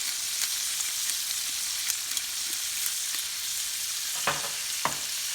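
Green beans sautéing in a pan with salt and pepper, a steady moderate sizzle with occasional sharp clicks of a utensil near the end.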